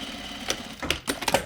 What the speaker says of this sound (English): we're going to sew our shoulder seams together